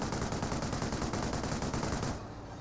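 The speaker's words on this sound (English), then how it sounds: "Nice crossover does get suppressed and pinned by the Vickers emplacement." Vickers machine gun emplacement in Company of Heroes firing a dense, continuous rattling burst of rapid shots that ends in a quieter tail.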